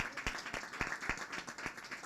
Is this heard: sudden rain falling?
no